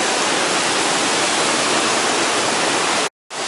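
A tumbling stream beside a footpath near a waterfall in Llanberis rushes as a loud, steady, close wash of water, with a brief cut near the end.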